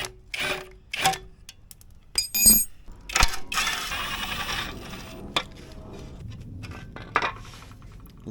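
Metal bolts clink and rattle as they come off an aftermarket skid plate on a second-generation KLR650, with scattered ratcheting and tool clatter in irregular bursts, close by and without talk.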